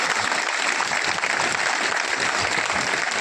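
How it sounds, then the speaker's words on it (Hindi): A large crowd at a political rally claps continuously and densely for about three seconds, a loud, even wash of applause with no pauses. "उनके लिए जोरदार ताली बजाओ भाई।"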